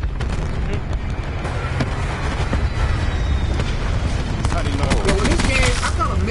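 Rapid bursts of gunfire and booming explosions in the Black Ops 4 video game run loud and continuous, with players talking over the action.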